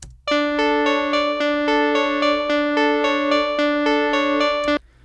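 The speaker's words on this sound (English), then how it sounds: "I added an EQ and rolled off a lot of that high end" A synth pad plays a rhythmic pulsing note pattern with a dulled tone, highs and lows below 200 Hz rolled off by EQ, steady and prominent for about four seconds, then cuts off.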